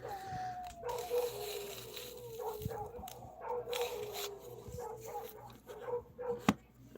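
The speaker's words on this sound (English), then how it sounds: "that's not barking, that's like howling" Dogs barking and howling in the distance, a long drawn-out howl followed by scattered barks and yips that go on irregularly throughout.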